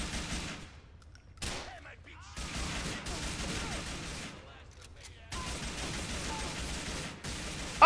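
A gang war in Grand Theft Auto IV brings bursts of gunfire. Dense, rapid shots come in long volleys broken by short quiet gaps, loud and continuous for several seconds.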